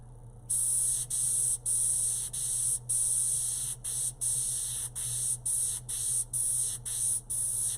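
House of Color paint is airbrushed in short repeated bursts, a sharp close hiss that starts and stops about a dozen times over a faint steady background hum.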